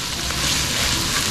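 Garlic and onion sizzling in hot oil in a pan for pork belly, a steady loud frying hiss throughout the short moment.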